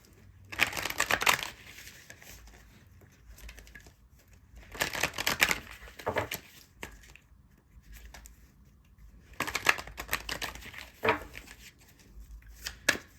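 Oracle cards being shuffled and handled by hand, with three bursts of crisp riffling and slapping, separated by quiet pauses and a few sharp taps as cards drop.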